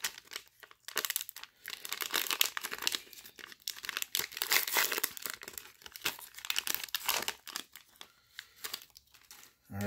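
Foil wrapper of a 2023 Donruss football card value pack being torn open in a quick rip, with steady close crinkling and crumpling of the packaging for several seconds, broken by short pauses and ending in a louder tear.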